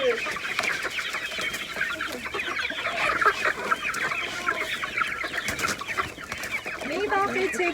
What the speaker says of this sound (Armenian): ինձ մնում է հավերին հսկեմ այս ցրտովը